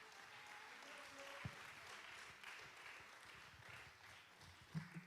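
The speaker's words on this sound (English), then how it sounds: "Y'all applaud the poet." Audience applause for a poet at a poetry slam, a dense, steady wash of clapping from a crowd, fairly faint and heard from a distance, with a couple of sharper knocks.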